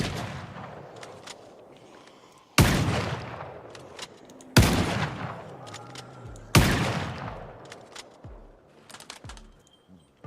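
Hunting rifle gunshots in Project Zomboid: three loud, sharp reports about two seconds apart, each trailing off into a long echo, over a low ambient background with a few fainter clicks and taps.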